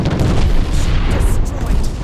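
Cannon fire in the video game Treasure Planet: Battle at Procyon, a loud, deep, rumbling boom that fills the whole moment without a break, dense and heavy at the low end.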